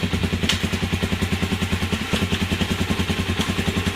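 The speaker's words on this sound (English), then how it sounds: "You put it in gear, bike doesn't die." A Suzuki DRZ400S dual-sport motorcycle engine idles steadily in gear with the kickstand switch bypassed, a close, loud, even single-cylinder thump with light mechanical clatter over a continuous low hum.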